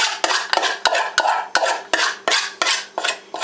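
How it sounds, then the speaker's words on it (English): Spoon stirring a flour and milk mixture in a pot for a cream pie: a regular series of scraping strokes, about three per second, loud and close, with no voices. "And you stir this into the pot."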